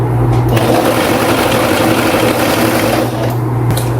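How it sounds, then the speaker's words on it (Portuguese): Sewing machine running a straight seam at a waistline on a dress with a steady fast whirring hum, close and continuous, pausing briefly near the end. "Vamos passar uma costura reta aqui."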